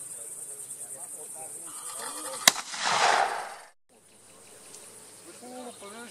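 A single sharp gunshot cracks out from an old French musket amid a steady insect-like buzz, followed by a roaring burst of smoke-like noise that fades into near silence.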